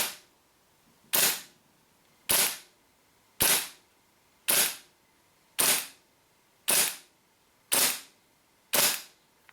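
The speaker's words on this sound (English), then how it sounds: "First couple of shots without the barrel extension." A WE P38 gas blowback airsoft pistol fired without its barrel extension gives nine sharp, evenly spaced cracks about a second apart. Each is crisp and close, with quiet gaps between them.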